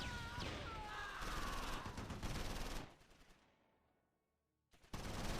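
Machine gun fire from the video game Close Combat, in a battle at Wadelincourt: dense, rapid crackling bursts for a few seconds that fade out, then resume abruptly.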